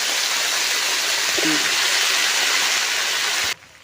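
A small splash of water goes into a pan of fish curry with potatoes, making a loud, steady rushing hiss that cuts off sharply near the end.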